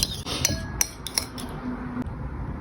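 Canned fish salad with lime being mixed in a bowl: a quick series of bright metallic clinks and taps from a spoon against the dish, close and crisp, then trailing off.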